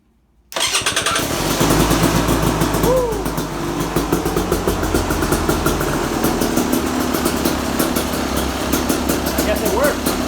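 A rebuilt 2018 Beta Xtrainer dirt bike engine fires up for the first time after a top-end job, catching quickly and settling into a loud, steady, uneven two-stroke idle close by with occasional revs.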